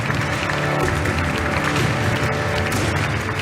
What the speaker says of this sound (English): And the crowd showing their appreciation